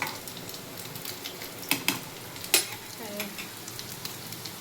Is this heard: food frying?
yes